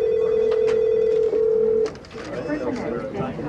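An IP telephone on a new office phone network rings unanswered, a loud steady electronic tone that cuts off partway through, followed by softer background sounds and a voice.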